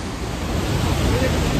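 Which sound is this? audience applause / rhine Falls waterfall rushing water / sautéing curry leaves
rhine Falls waterfall rushing water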